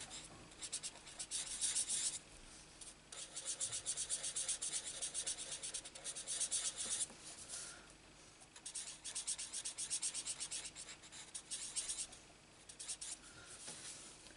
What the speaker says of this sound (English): Let me just colour in the middle of each flower.